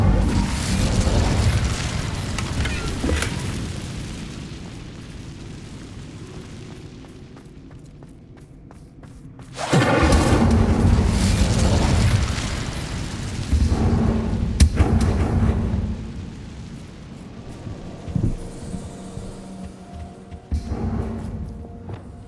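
Incendio fire spell in Hogwarts Legacy on PS5, loud booming blasts and roaring whooshes that swell and fade across a long stretch of spellcasting combat.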